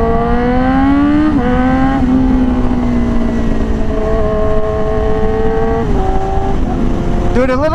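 A Yamaha R6 sport motorcycle fitted with a very loud slip-on exhaust accelerates through gears on a ride, the engine pitch climbing and dropping at each shift, close, loud and constant with wind rush.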